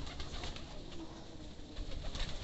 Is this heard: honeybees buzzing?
no